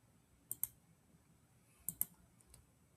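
A computer mouse gives two quick pairs of sharp, faint double clicks a little over a second apart, followed by a softer click, in a quiet room.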